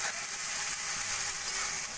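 Spices with ginger garlic paste are stirred in a hot pan, making a steady, close sizzle and frying hiss that runs throughout, with no talking.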